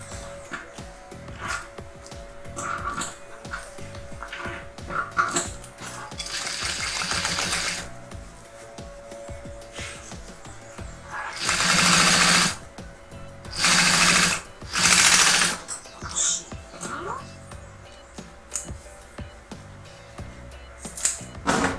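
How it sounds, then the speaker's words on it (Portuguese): A sewing machine stitches a binding strip onto a lunch bag in bursts of whirring, some short and some longer and louder, separated by pauses filled with handling noise. "vou passar a costurinha aqui"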